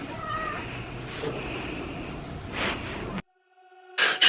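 A cat meows in short, near calls in a garage setting beside an F56 Mini Cooper S, with a voice briefly present before a silent gap and a louder burst at the end.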